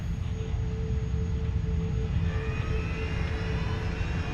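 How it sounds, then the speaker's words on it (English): A jet airliner engine, brought back after flying through volcanic ash near Java, drones steadily at full power, with a constant roar and faint whine and no talk. "Engine 3, back online."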